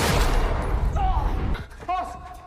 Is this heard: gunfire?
yes